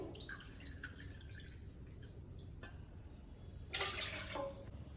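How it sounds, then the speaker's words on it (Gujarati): Water is poured into a cooking pot, a faint quiet trickle and drip that swells into a brief louder splash near the end. "ત્યાર પછી આપણે એક તપેલીમાં 4 વાટકી જેટલું પાણી લઈ લઈશું."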